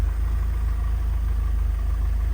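A Mercedes W124 200E sits idling, its engine and exhaust giving a steady, low, even drone with a faint regular pulse, close by and unbroken, with no talk.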